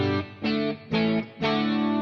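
Electric guitar chords played through a stereo chorus with its speed turned all the way down, into a Deluxe Reverb amp, four sustained strums with a slightly shimmering, thickened tone, loud and close.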